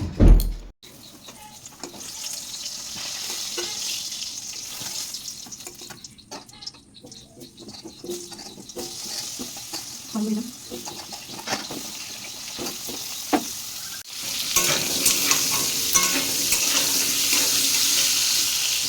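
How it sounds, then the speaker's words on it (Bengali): Potatoes frying in oil in a pan, a continuous sizzle with stirring scrapes, growing louder and brighter toward the end. "এবার পটলটা তুলে আলুটা ভাজবো।"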